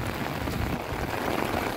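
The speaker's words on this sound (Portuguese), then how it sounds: "Só chuva. Muita chuva, pessoal." Heavy rain pours steadily over the countryside near Parnamirim, a dense, continuous hiss of drops close by with no pauses or other sounds.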